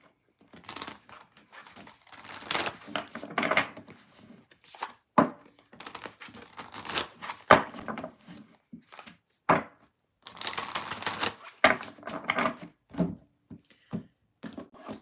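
Tarot cards being shuffled up close, in repeated quick riffling and flicking bursts separated by brief pauses.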